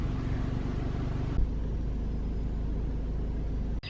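A car driving down a foggy mountain road gives a steady, close interior rumble of engine and road noise, shifting to a smoother tone partway through and ending with a brief knock.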